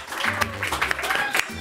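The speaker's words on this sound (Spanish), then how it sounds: "Un aplauso para él" Scattered applause from an audience at a solidarity event held after an earthquake, short and uneven, with voices mixed in over the clapping.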